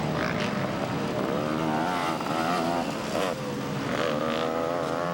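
Racing ATV engines at a GNCC cross-country event at Loretta Lynn's drone and rev loudly and steadily, their pitch wavering up and down as machines speed past, with overlapping engine notes and no speech.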